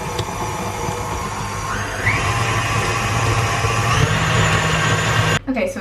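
A KitchenAid stand mixer beats banana bread batter with chocolate chips, a steady motorized whir with rising pitch steps as the speed changes, running continuously at moderate loudness before cutting off near the end.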